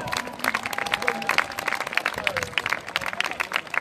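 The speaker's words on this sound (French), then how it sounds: "un tonnerre d'applaudissements" An audience in an occupied theatre applauds during an assembly, with lively, dense clapping and some crowd voices mixed in, loud and sustained throughout.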